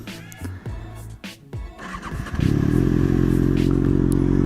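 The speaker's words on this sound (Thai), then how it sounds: "อันดับแรกเลย สตาร์เครื่องก่อนครับ" A big bike motorcycle is started: a few clicks and clatters, a brief cranking, then the engine catches and settles into a loud, steady rumbling idle close by.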